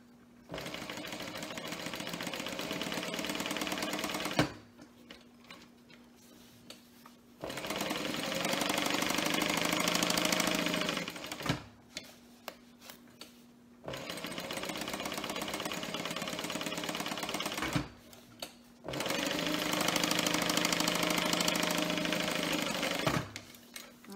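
A sewing machine top stitching the card slots of a small wallet runs in four long steady bursts of rapid needle chatter, separated by brief quiet pauses with clicks.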